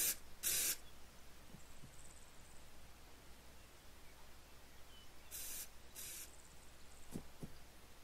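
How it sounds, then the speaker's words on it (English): Spray paint hissing in a video game, two short bursts at the start and another pair later, each a brief loud hiss over faint background noise. "No spray paint is still working."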